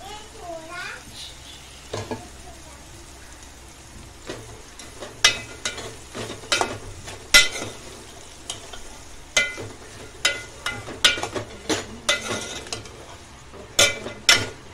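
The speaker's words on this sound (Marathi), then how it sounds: "कांदा चांगला परतून घेऊया।" Onion sautés in a pan for dal khichdi, a low steady sizzle with frequent sharp clicks and scrapes of a spoon stirring against the pan, close by, with occasional faint voices.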